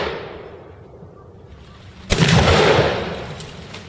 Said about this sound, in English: You can hear a lot of gunfire right now